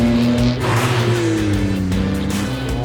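A modified road car accelerates hard on a race track, its engine note loud and close with a steady rising drone and a slight dip in pitch midway, no talking over it.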